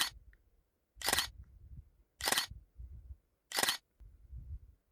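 Several sharp camera shutter clicks, four bursts spaced roughly a second apart, fired while photographing a wild rabbit outdoors, each close and crisp over a quiet low rumble of background.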